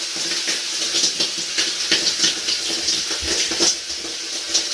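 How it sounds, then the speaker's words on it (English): Running water rinsing shampoo out of hair, a steady splashing hiss with irregular spatters and drips, close and continuous with no voices. "let me rinse this out"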